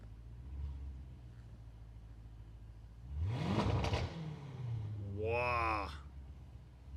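A 2023 Aston Martin DBX Mansory idles with a low exhaust drone in Sport Plus mode, then gives one short, loud rev before settling back. A voice exclaims shortly after the rev.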